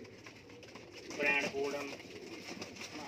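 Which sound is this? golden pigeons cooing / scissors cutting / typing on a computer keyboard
golden pigeons cooing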